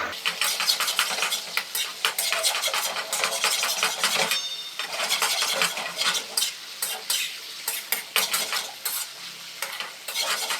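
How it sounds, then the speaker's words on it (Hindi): Chicken frying in a karahi gives a steady, busy sizzle, with repeated scraping and stirring strokes against the metal throughout. The sound stays fairly close and dense, and no one speaks. "जी इसे 4 से 5 मिनट मैंने अच्छे तरीके से फ्राई कर लिया।"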